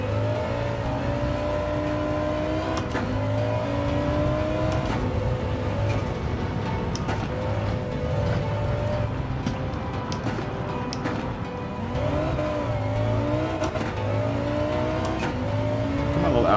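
Audi race car engine in the video game Gran Turismo 7, revving and shifting through gears with rising whines and repeated pitch drops, a steady driving drone throughout.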